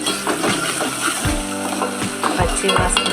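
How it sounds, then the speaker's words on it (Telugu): Onions and a spoon of ginger paste fry in a pan for a rural-style mutton curry, a steady close sizzle with scraping stir strokes and a few low knocks throughout. "ఉల్లిపాయలు మగ్గిపోయినాక కొంచెం అల్లం పేస్ట్ స్పూన్ వేసేస్తున్నాను"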